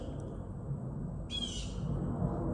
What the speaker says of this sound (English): You hear a little crow back there.